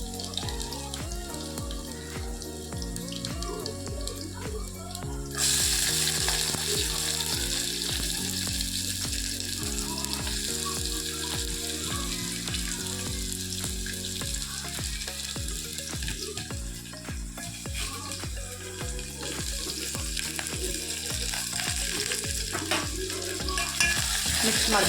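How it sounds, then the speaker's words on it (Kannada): Garlic and onion frying in a tempering for tomato rasam, a steady sizzle with scraping stirs, joined by a louder bright hiss partway through, while a repeating rhythmic tone sits underneath for the whole stretch. "ಸ್ವಲ್ಪ ಕಲರ್ ಚೇಂಜ್ ಆದ ತಕ್ಷಣ ಬೆಳ್ಳುಳ್ಳಿದು ಆಮೇಲೆ ಈರುಳ್ಳಿ ಹಾಕೋಬೇಕು."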